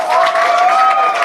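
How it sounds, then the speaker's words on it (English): A short stretch of audience applause for a band at a live event, loud clapping and crowd noise under a sustained tone and a voice. "big round of applause to the band and the BR"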